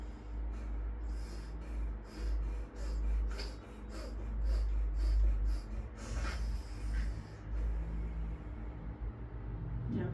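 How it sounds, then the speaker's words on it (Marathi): Rapid nostril breathing, drawn in through one side and pushed out the other in quick snorting pulses, repeats steadily over a low background hum with no talking. "भराभर श्वास एका नाकपुडीने आत आणि दुसऱ्या नाकपुडीने बाहेर."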